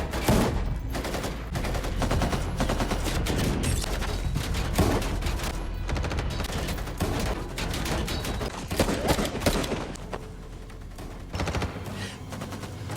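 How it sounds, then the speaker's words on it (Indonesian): In a movie shootout outside a house between a gunman, cartel members and police, gunfire crackles almost without pause: dense, loud volleys of overlapping shots and automatic bursts that thin slightly toward the end. "beku tembak pun dilanjutkan di luar rumah antara Sean, para kartel, dan juga polisi yang tadi"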